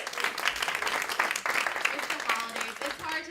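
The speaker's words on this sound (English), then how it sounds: "Give a round of applause to yourselves for coming out." An audience claps together at a casual holiday show, a dense steady patter of applause filling the room from start to finish, with a voice faintly mixed in.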